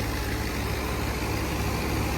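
A New Holland 850 tractor runs with a 5.5-foot Diamond wheat thresher behind it, giving a steady, loud, low droning engine hum with constant mechanical noise and no break.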